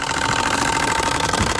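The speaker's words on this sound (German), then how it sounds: "Und der Auspuff, der ist absolut umweltfreundlich, aber der macht mal so richtig Krach." A bicycle fitted with a loud exhaust gives a continuous rumbling engine-like drone, dense and steady, with a gritty knocking texture throughout and no talk.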